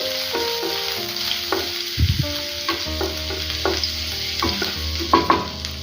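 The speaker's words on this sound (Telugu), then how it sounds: "ఆయిల్ వేడెక్కిన తర్వాత మనం ముందుగా కట్ చేసుకున్నటువంటి ఫస్ట్ అల్లం వెల్లుల్లి యాడ్ చేసేసుకోండి" Ginger and garlic frying in hot oil in a kadai, a steady sizzle broken by repeated scraping and clinking of a ladle stirring against the metal pan.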